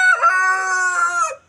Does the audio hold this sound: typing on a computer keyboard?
no